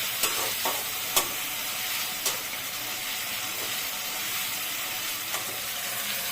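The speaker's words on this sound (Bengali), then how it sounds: "মশলাটা দিয়ে এখন আমি ভালো করে কষাবো এখন জল দিব না" Spice paste is sautéed and stirred in a frying pan with no water, giving a steady, fairly quiet sizzling hiss broken by a few light scrapes and taps of the spoon.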